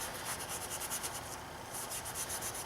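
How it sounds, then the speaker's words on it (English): A Scotch-Brite pad scrubs the oil filter housing gasket surface on a BMW N52 six-cylinder engine, making a steady, close, rhythmic rubbing and rasping with quick back-and-forth strokes throughout, no voices. "I do have some Scotch-Brite, which does a really good job as well, just to kind of go over everything really quick"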